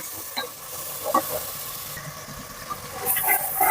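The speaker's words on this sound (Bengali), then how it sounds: "আমি এটাকে এখন খুব ভালোভাবে ভুনে নিব" Oil sizzles and crackles steadily as a spoon scrapes and stirs through a thick spice paste in a pan, growing louder and hissier toward the end.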